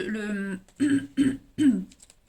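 A few rough, voiced throat-clearing bursts, close and fairly loud: one longer rasp followed by three shorter grunting clears with brief pauses between.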